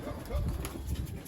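A racing pigeon lands at its home loft at the end of a 100 km race, giving a brief, close flutter with a soft coo. Faint voices sit underneath.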